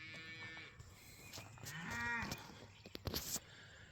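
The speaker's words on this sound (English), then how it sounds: "I love the sound of cattle." Cattle moo once in a long, clear drawn-out call at moderate distance, surrounded by faint outdoor noise and a few brief knocks, with no talking over it.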